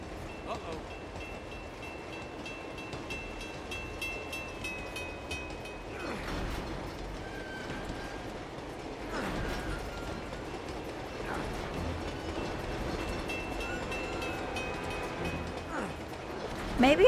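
A train in the video game Uncharted 2: Among Thieves rumbles along in a continuous mid-level roar with faint metallic rattles and rises, and a few louder surges along the way.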